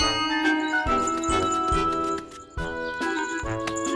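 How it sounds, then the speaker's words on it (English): A small bell jingles and tinkles repeatedly in a cartoon setting, bright chiming strikes with ringing overtones layered over light music, fairly loud and close for about four seconds. "And what about the bell? I might still use it."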